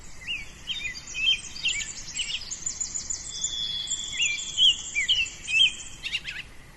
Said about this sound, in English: you can hear how lively all the birdsong is right now